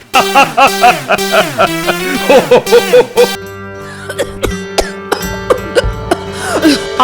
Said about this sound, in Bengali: আহারে, কাশিটা বড্ড বেড়েছে।